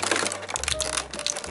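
Scissors cutting through the plastic packaging of a Transformers Generations Titans Return Broadside toy, a short close crinkling and crackling of plastic with a few snips.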